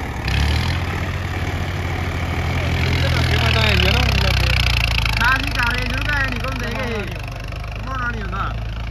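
A Swaraj 855 tractor engine runs with a steady low diesel rumble close by, driven on a ground for stunts; people talk over it for most of the clip.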